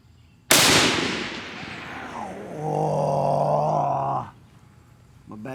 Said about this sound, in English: I'm going to shoot another round just to check it